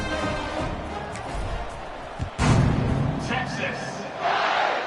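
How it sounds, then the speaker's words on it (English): A football stadium crowd buzzes after a Texas touchdown, a loud, steady roar that swells and surges, with voices over it. "this crowd is buzzing after that last score"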